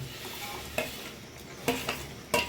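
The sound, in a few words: stirring grated mango into sago pudding in a pot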